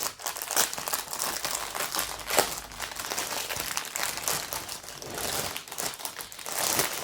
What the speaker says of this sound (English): so excuse the crinkle.